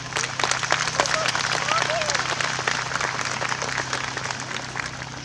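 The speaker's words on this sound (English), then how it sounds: "Let's give them all a round of applause." Steady applause from a crowd at a remembrance walk in Ohio, dense clapping sustained throughout with a low hum underneath.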